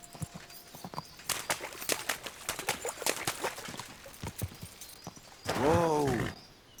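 Horse hooves clip-clop in a quick, steady walking rhythm in the video game Kingdom Come: Deliverance II, then a loud whinny rings out near the end.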